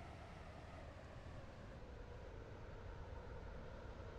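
Simulated train in Stepford County Railway approaching a platform at Millcastle station, a steady, quiet rumble of wheels and motors that holds even throughout, with no voices.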